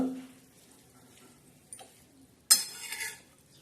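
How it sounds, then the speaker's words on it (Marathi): Bitter gourd pieces are stirred in a pan, with a brief sizzle fading at the start, a light scrape midway, then a sharp metallic clatter of a spoon against the pan followed by a short rustle. The sounds are close and fairly quiet, with no talking. "असे सगळे असे कारले परतून घ्यायचे"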